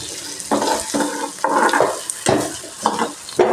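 Curry stirred and frying in a pan after turmeric powder goes in, with repeated scraping strokes over a steady sizzle, close and fairly loud.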